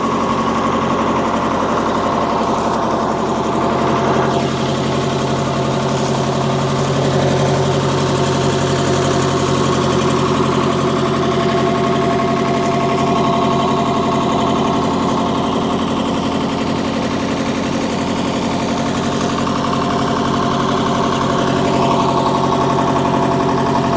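A two-stroke diesel-electric earthmover engine runs steadily and loudly at a smooth idle, its droning hum and faint knock continuing unbroken throughout, with no voices.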